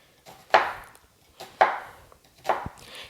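A knife chops an onion on a cutting board in a home kitchen, three crisp, separate thuds about a second apart, close and clear with quiet between.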